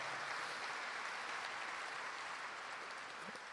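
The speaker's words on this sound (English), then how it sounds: "let's give them a round of applause anyway" Sustained applause from a luncheon audience honoring athletic trainers at a university athletics club kickoff, a steady dense wash of clapping that continues evenly throughout with no talking.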